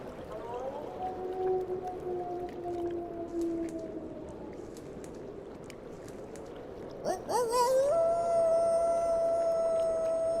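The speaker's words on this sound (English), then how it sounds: "The howl of the gray wolf is answered by another" Gray wolves howl in snowy winter wilderness: one long, wavering howl drifts at a distance, then a second, louder and clearer howl rises sharply and holds a steady tone in answer.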